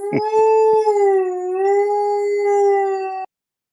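Several dogs howl together in one loud, close, sustained, wavering chorus lasting about three seconds, opened by a few short yips and barks, with no talking.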